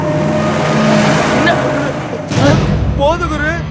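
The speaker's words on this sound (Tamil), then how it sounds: "வண்டி வருது குரு." A car drives past nearby with a loud engine rush and a thump, while people talk over it in Tamil.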